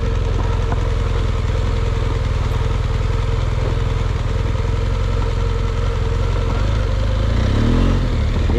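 An adventure motorcycle on Michelin Anakee Adventure tyres churns over an off-road dirt track, its engine droning loud and steady throughout, rising slightly near the end.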